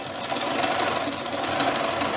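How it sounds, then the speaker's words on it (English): A sewing machine runs a chain stitch around the pieces of a turtle stuffie at a quarter-inch seam, a steady, close mechanical whir and rapid needle chatter that continues unbroken throughout. "I'm just chain stitching all of these around at a quarter of an inch"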